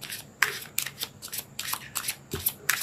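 Tarot cards shuffled and drawn in a love reading: a quick run of crisp riffling snaps and papery slaps, close and moderately loud, with no voice.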